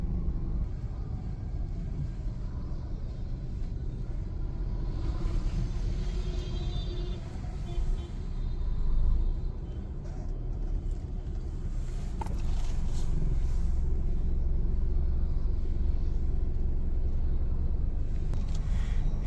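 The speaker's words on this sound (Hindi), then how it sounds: "हम लोग ने गाड़ी को एक्सीलेटर दिया तो ये पूरा पीछे चला गया" A Maruti Suzuki Ciaz sedan accelerates, heard as a steady low engine rumble and road noise from inside the car that swells somewhat louder toward the end.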